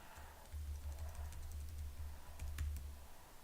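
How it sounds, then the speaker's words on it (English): Keyboard typing on a computer, a short run of faint key clicks over a low steady hum, with no talking. "We can test with the keyboard."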